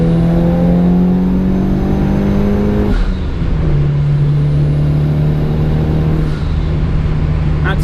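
A Mitsubishi Evo 8 pulls hard in fourth gear on a highway in Mexico, engine note climbing steadily, a quick shift, then climbing again, loud and close inside the car.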